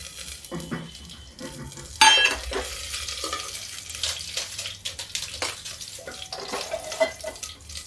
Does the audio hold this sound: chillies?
yes